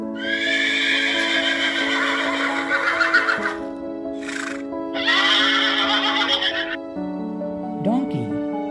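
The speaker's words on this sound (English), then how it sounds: "Let's hear how horse neighs." A horse neighs loudly and close by in a long, shrill whinny, then gives a second outburst after a brief pause. A short squealing call follows at the end.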